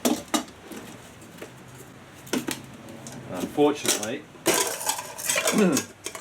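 Camping cook pots and a pan, dented from use, clatter and clank as they are handled in a few metallic bursts, with someone talking between the knocks.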